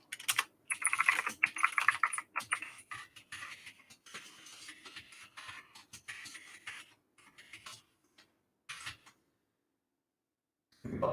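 Rapid bursts of typing on a computer keyboard while code is entered, dense clattering keystrokes for most of the stretch with brief pauses and a few isolated taps near the end, close and clear with no talk.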